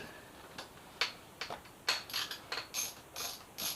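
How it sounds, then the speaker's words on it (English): A ratchet wrench clicks in short, uneven bursts while loosening a fairing bolt on a Yamaha FZ6R motorcycle, with crisp metallic ticks that grow quicker and denser toward the end, close up and fairly quiet with no talking. "Let's get the second bolt out."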